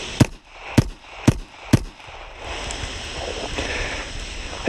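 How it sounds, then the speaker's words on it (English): Four sharp gunshots in quick succession, each a loud broadband crack, heard through electronic ear protection that clamps them down, followed by a steady hiss of ambient noise. "Let's see what the gunshots sound like though."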